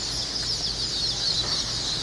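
Dark Brahma chicks cluck and chirp continuously in a dense, busy chorus at a hatchery, close and fairly loud, with no other sounds.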